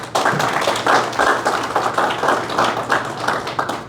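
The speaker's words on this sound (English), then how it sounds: "So, a round of applause for our Consul General, please." Audience at a consulate event clapping for the Consul General, a loud burst of hand claps with distinct rhythmic pulses standing out from the crowd, close and continuous.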